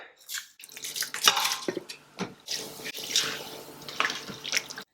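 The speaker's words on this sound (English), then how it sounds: "I'm gonna add this rice into the water." Drained rice poured into water in an Instant Pot for peas pulao, irregular splashy patters and drips close by, fading in and out over a few seconds with no talk.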